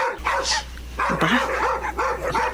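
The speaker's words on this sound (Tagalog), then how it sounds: "Ingay naman ng mga asong yun." Dogs bark at night, several quick yapping barks in a row, fairly close over a low steady hum.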